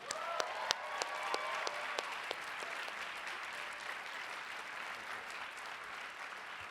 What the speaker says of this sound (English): Ladies and gentlemen, please join me in welcoming John Rick MacArthur.